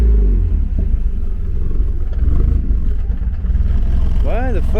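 A 1993 Eunos Roadster S-Special with a 1.8-litre engine idles roughly after being parked, a steady low rumble with uneven pulsing throughout, close and loud, with a voice speaking over it.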